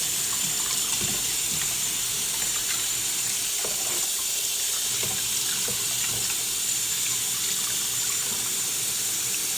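Lukewarm water runs from a kitchen faucet into a sink while raw chicken is rinsed under it, a steady close hissing splash with faint bumps and handling sounds throughout.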